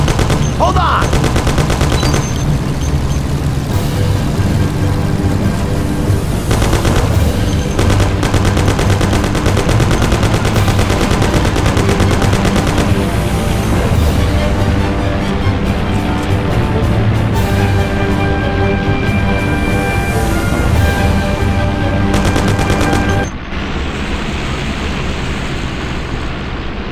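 Continuous automatic gunfire rattles in the Mafia video game, loud and dense for over twenty seconds with bursts layered over engine-like rumble, then cutting to a quieter stretch near the end.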